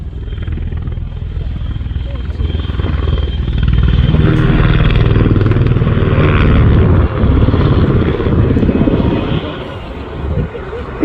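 Military helicopter with a four-bladed composite main rotor and three-bladed tail rotor, performing at the RIAT airshow: a loud, sustained rotor and turbine roar that swells and holds steady throughout, with a commentator talking over it.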